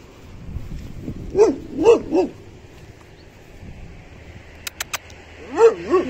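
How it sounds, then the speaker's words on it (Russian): A dog barks in a few short bursts, a pair of quick barks followed by more, fairly close, over a low background murmur with brief clicks. "смотрите, какая собака"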